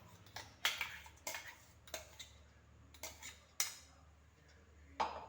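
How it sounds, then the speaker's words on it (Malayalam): Mixer-blended banana is spooned into a bowl, giving a series of sharp, separate clicks and taps of spoon on dish at an irregular pace, close but fairly quiet. "അപ്പോൾ ഞാൻ മിക്സിയിൽ അടിച്ചുകൊണ്ട് വന്ന പഴം ഇതിലേക്ക് ഇട്ട് കൊടുക്കുകയാണ്."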